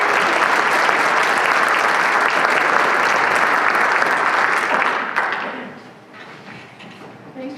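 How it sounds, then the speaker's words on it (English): A room full of listeners claps at the start of a panel discussion on 6-on-6 basketball in Iowa. The loud, even applause runs for about five seconds, then fades quickly to quiet room tone. "So let's give everyone a round of applause."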